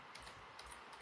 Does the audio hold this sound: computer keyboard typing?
yes